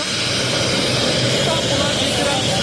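Steady, loud aircraft engine roar at an airport as a helicopter transfer awaits a newly arrived football coach, continuous and close with no break.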